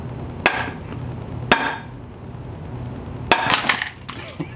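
A mallet strikes a Ruger 10/22 barrel as it is driven into the receiver, giving four sharp metallic knocks spaced irregularly, each with a brief ringing tail.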